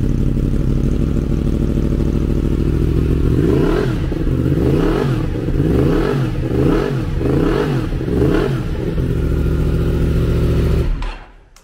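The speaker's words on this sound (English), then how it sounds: "R1 crossplane crank engine, which sound fantastic, especially with it having the Scorpion exhaust and the decat there." A 2019 Yamaha MT-10 with an R1 crossplane crank engine, Scorpion exhaust and decat idles loudly and close, then blips through a series of rhythmic revs before cutting off abruptly at the end.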